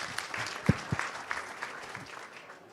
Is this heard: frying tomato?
no